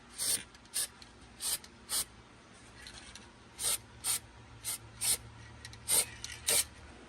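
Aerosol primer sprayed over welded-up holes on a Lexus body, a dozen short hissing bursts of uneven length in an irregular rhythm, close and crisp against a quiet workshop background.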